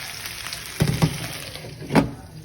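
Chicken pieces being stirred in a pan, a quiet background sizzle broken by three distinct scraping stir strokes, two close together and one a moment later, near and moderately loud.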